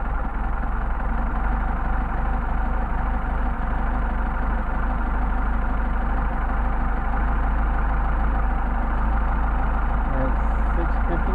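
An engine fitted with Solex 44PHH carburetors idles steadily for over ten seconds, with a loud, constant low rumble close by and a voice talking over it at times.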